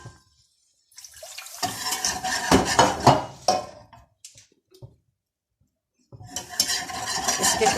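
Milk being stirred into browned flour in a pot to break up lumps, producing bursts of wet scraping and clinking of a utensil against the pot, separated by short silent pauses.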